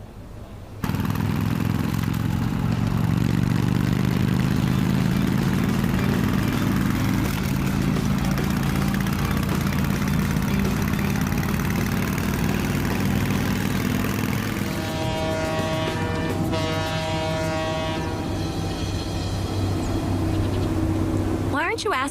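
A motorbike engine runs with a steady, loud droning rumble that sustains for the whole stretch, with voices talking over it toward the end.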